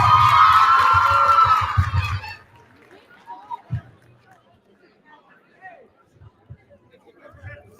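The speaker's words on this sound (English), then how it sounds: "Let's give a hand clap for her real quick." An audience at a Black History event applauds and cheers for a singer, a dense loud burst of clapping and whoops lasting about two seconds that cuts off abruptly, followed by faint stray sounds and near silence.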